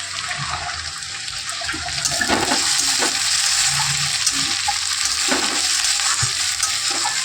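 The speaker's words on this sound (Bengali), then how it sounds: "এর মধ্যে একটুখানি রসুন কুচি পেঁয়াজ কুচি দিলা এবার কাঁচা লঙ্কা কুচিটাও দিয়ে দেবো দিয়ে হচ্ছে সবজিগুলো বেশ লাল লাল করে একটু ভাজবো" Vegetables fry in a pan with chopped garlic, onion and green chili, sizzling loudly and steadily close up, with a louder burst partway through and intermittent scraping as they are stirred.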